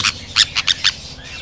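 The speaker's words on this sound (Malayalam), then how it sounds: "ഇവിടെ അല്ലേ കുറേ തത്തകളുണ്ട് ഇവിടെ" Parrots calling at a crowded roost, giving a handful of short, sharp squawks in quick succession, fairly close over a low steady background.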